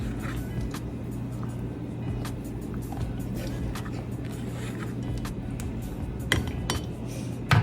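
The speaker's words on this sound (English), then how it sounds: "And then I'm gonna go back and mix the pasta. Make sure to scrape the bottom so nothing is sticking." A spoon stirs pasta in a pot and scrapes the bottom, with scattered metallic clinks and scraping taps over a low steady hum, fairly quiet, ending in a couple of sharper knocks.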